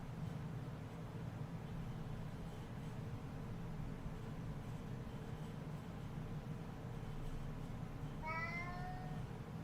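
Near the end, a house cat gives a single short meow over a faint steady background hum in a quiet room.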